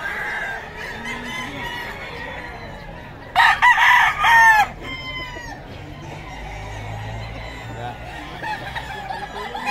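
A silver gray rooster crows loudly and close at an open-air market in Bocaue, one long cock-a-doodle-doo amid clucking fowl, with a busy crowd of people talking throughout.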